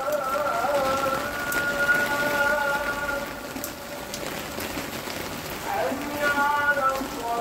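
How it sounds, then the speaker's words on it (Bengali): Steady rain falls in Al Ain, UAE, with a constant hiss and patter on surfaces, while a faint voice speaks briefly in the background. "কিট্টু বৃষ্টি দেখে,"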